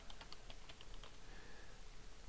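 Someone types a name on a computer keyboard in a Word document: a quick, faint run of light key clicks in irregular rhythm that stops after about a second.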